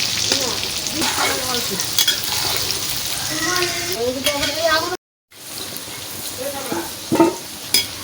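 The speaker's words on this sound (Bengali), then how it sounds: "হালকা করে লাল লাল করে ভেজে নিচ্ছি" Potatoes fry in oil in a pan, seasoned with turmeric, for a duck biryani, giving a steady close sizzle with stirring scrapes and a short silent break, while faint voices and background sounds carry on underneath.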